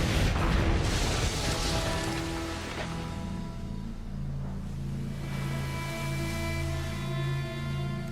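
Broadside cannons fire a double shot during naval combat in Assassin's Creed Black Flag: heavy booming blasts open the moment, then a rumbling decay lingers under sustained musical tones.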